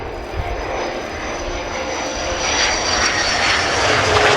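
A Ukrainian Air Force Su-27P1M Flanker jet performs at a flying display, its engine roar a steady, broad rush that swells slightly louder toward the end, with no talk over it.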